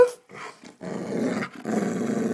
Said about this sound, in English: Say woof.